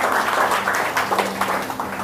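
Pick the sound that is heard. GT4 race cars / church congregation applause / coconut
church congregation applause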